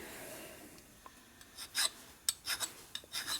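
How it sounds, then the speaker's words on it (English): A hand file rasps against a Harley 113ci Twin Cam piston in a series of short, uneven strokes, close by and fairly loud, with quiet gaps between them. "You're only cutting in one spot, you can go around the whole surface"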